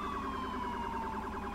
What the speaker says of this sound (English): So those are the sirens